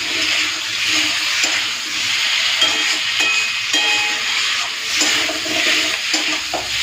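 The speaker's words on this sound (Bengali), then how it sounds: "সবজির সাথেই মশলাগুলোকে কষছি" Spice paste fries with potato and papaya in a pan over high flame, a steady moderate sizzle with occasional stirring scrapes and no talking.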